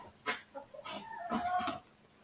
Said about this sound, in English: My chickens need to go outside.